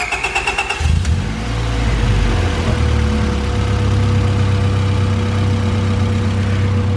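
A car engine cranks with a rapid starter whir for about a second, catches, then settles into a loud, steady idle nearby.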